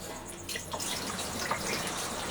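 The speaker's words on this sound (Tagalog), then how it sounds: "lagyan muna natin ng tubig" Tap water running steadily into a cooking pot as the base for sinigang with shrimp and fish, a continuous close splashing stream with no talk.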